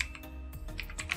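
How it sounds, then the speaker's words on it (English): Light keystrokes on a computer keyboard as commands are typed in Windows, a quiet, irregular run of close taps and clicks, with no voices. "Here you have to type few commands."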